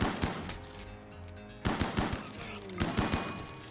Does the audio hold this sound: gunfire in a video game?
yes